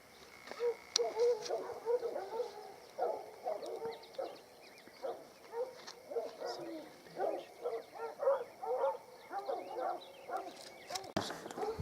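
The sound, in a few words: hunting dogs barking during black bear hunt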